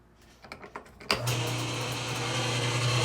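A GE top-load washing machine, repaired after not spinning and running without its agitator fitted, gives a few soft clicks before its motor kicks in abruptly and settles into a steady, continuous hum.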